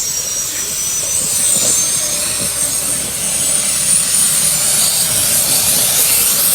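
A helicopter engine roars steadily and loudly at close range as the aircraft lifts off, with a broad whine and rumble that stays constant throughout.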